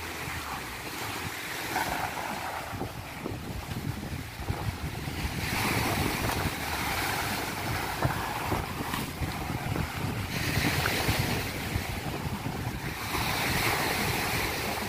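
Rough sea surf rolls and crashes continuously during a typhoon, mixed with gusty wind buffeting the microphone.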